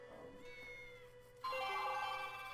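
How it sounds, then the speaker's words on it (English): A cat meows in the video game Tales of Xillia 2, a soft tonal cry followed by a louder, brighter meow over a steady game music bed, with no talking. "I hear meowing."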